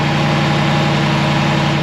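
Land Rover V8 engine idling through its exhaust, a steady, loud, continuous low rumble with even pulsing and no pauses, close by and alone with no voices.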